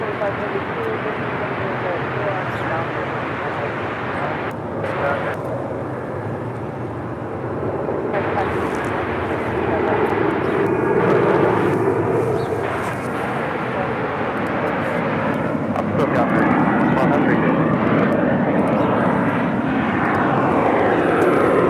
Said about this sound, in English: American Airlines Flight 809 heading to Charlotte this morning in this 777-200ER. Starting her taxi, will make her way down to 25 right for a departure.